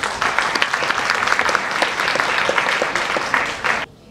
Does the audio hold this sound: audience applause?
yes